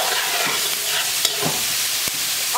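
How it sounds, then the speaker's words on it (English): A spoon scrapes and clinks through Puerto Rican sancocho stew of meat and vegetables in a pot, a few close stirring strokes over a soft sizzle. "let's give it a stir"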